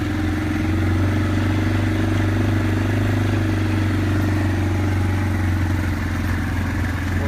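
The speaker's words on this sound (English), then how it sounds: "We're brush hogging today." A tractor engine runs steadily while brush hogging on a wooded rural tract, a loud continuous low drone with a rough, clattering texture.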